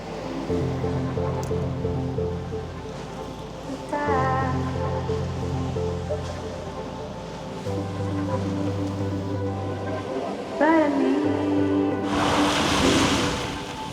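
Sea waves wash against the shore in a continuous rushing wash, swelling into a louder surge near the end, with a steady tonal hum running underneath.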